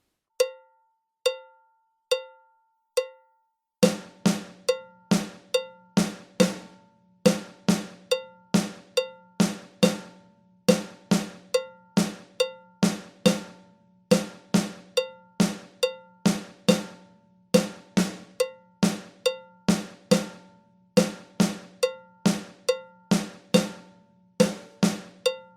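A drum fill with eighth-note rests at 70 bpm: sharp, bright strikes in a steady repeating pattern with gaps, first a few sparse hits and then fuller bars with a low thump under each, clean and close.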